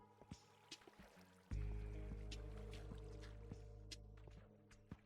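Flowing water in Minecraft, a steady rushing trickle that starts abruptly and continues at a constant level, fairly faint, with a few brief clicks over it.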